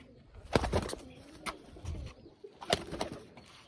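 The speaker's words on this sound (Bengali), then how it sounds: "ওটা ছিল মাদি পায়রা এটা হচ্ছে ওরই জোড়ার নর পায়রা" A male pigeon coos close by, a few soft throaty bursts spaced apart with rustling and faint wing movement in between, no voices present.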